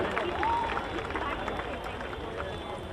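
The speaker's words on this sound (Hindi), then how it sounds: "जोरदार ताली इनके लिए भी।" A ceremony crowd claps loudly and steadily for an honoured student, with dense continuous applause and some background voices.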